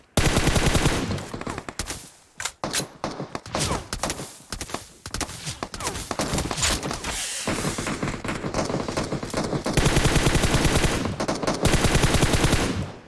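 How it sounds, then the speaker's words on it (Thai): Rapid automatic gunfire in the mobile game PUBG Mobile comes as dense, loud bursts of shots that stop and start across the clip, with brief gaps between volleys. "มันมีคนยิงมา"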